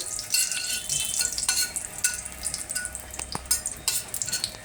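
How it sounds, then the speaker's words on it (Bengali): Dried red chillies and whole cumin seeds frying in oil for palak paneer, a soft, fairly quiet sizzle with scattered pops and a few light clinks of utensils. "শুকনো লঙ্কা এবং গোটা জিরেটা একটু প্রথমে ভালো করে ভেজে নিচ্ছি।"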